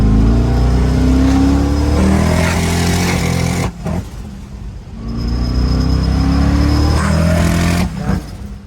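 Hearse engine revving hard on a dyno, with a misfire that breaks up under load, loud and close, in two long rising pulls, each ending in an abrupt drop.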